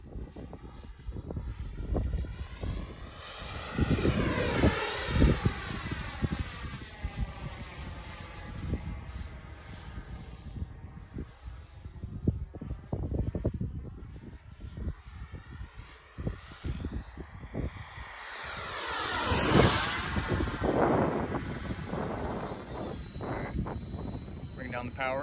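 A 90mm T-45 RC model jet with a stock outrunner electric ducted fan makes two fast low passes, a whining, rushing howl swelling then fading each time, with someone talking over the flyby.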